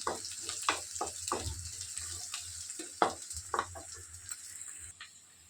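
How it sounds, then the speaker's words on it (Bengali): Onions frying in oil in a home kitchen pan, a soft steady sizzle with irregular clinks and scrapes of stirring, close and moderately quiet, with no talk. "পেঁয়াজটা মোটামুটি ভাজার মতো একটু হয়ে গেছে খুব বেশি ভাজছি না"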